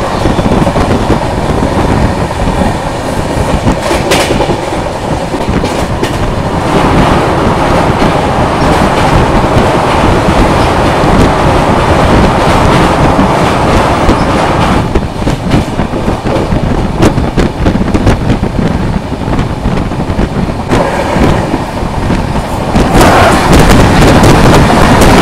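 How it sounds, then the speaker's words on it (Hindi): The Sayajinagari Bandra-Bhuj Express crosses close by near Maninagar at night, a loud continuous roar of wheels with rapid clickety-clack and rattling carriages that rises and thickens in bursts, heard from aboard another passing train. "अभी सयाजी नगरी बांद्रा भुज एक्सप्रेस आ रही है और मणिनगर के पास हमें क्रॉस करेगी"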